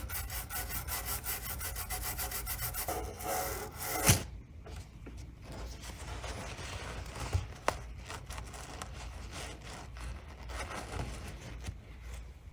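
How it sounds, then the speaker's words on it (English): Scrubbing a corroded TRS-80 circuit board with isopropyl alcohol, close rough rubbing and brushing strokes with a couple of sharp knocks, steady and moderately loud with no talking. "I'm gonna clean it up with some IPA."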